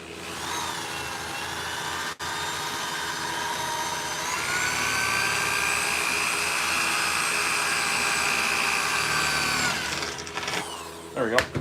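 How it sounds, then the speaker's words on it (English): Power drill boring through the back of metal medieval leg armour, a steady loud whine held for about ten seconds, strengthening midway, then stopping with a few short bursts. "I'm gonna drill through the back of this a little more."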